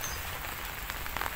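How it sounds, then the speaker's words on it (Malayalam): Heavy rain falls over green paddy fields in Kerala, a dense, even hiss of drops striking surfaces with scattered louder patters. "മഴയെന്ന് പറഞ്ഞാൽ ഒരു രക്ഷയില്ലാത്ത മഴ."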